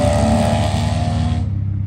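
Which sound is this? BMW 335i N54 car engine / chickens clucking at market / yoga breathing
BMW 335i N54 car engine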